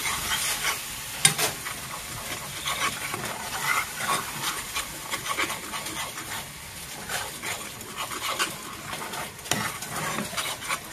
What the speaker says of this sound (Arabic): كنديرو الفرماج كامل مع التحريك المستمر